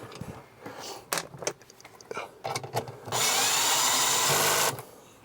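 A cordless power drill whirs steadily for about a second and a half, tightening seat bolts in a Land Rover Defender, close and loud after some clunks and handling noises.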